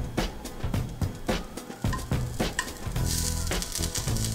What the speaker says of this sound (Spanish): Ahora en un sartén caliente, yo le pongo tantita mantequilla.